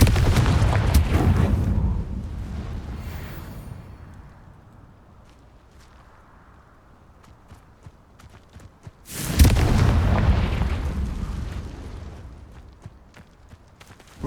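Two heavy explosions from the Confringo blasting spell in Hogwarts Legacy, one at the start and another about midway, each a loud boom that rumbles and fades slowly into quiet between them.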